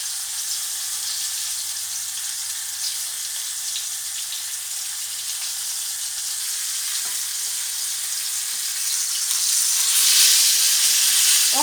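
Fish fillets sizzle in a frying pan with a little butter, a steady, close hiss of frying that swells louder toward the end, with no one speaking.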